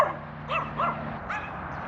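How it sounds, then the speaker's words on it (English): Several dogs greeting a visitor at a Russian housing site give short yips and whimpering barks in brief separate bursts, fairly close, over a low steady hum. "we've got loads of dogs all coming to meet me"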